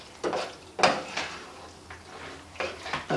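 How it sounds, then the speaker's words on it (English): A utensil stirs lasagna noodles in a cooking pot, giving several light scraping clinks and knocks at irregular intervals, close and fairly quiet. "stir these noodles up a little bit"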